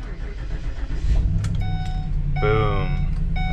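A 2008-2012 Ford E-250 van engine cranks and fires up on a newly installed starter, catching after a brief crank and settling into a running idle, with dashboard chime tones sounding over it.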